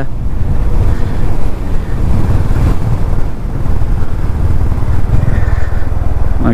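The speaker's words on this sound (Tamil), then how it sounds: "அந்த மாதிரி காற்று அடிக்குது பாருங்கள்" Strong wind buffets the microphone during a motorcycle ride through snowy Himalayan Ladakh, a steady, loud roar with the engine running underneath and no voices.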